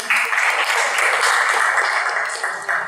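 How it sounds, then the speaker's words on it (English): A class applauds a volunteer with a short, even burst of clapping from a small group. The sound is moderately loud and fades slightly at the end. "Everybody please, again, give applause to him."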